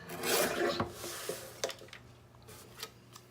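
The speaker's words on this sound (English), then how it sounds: "So I'll trim off the excess." Excess paper being trimmed for a sticker pocket: a soft scraping cut at the start, followed by a few faint, brief snips and rustles.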